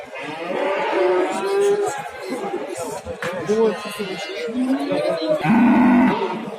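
Cattle mooing repeatedly, loud and close, amid a bustle of voices and trading chatter at the Kashkar-Kyshtak livestock market in Kyrgyzstan.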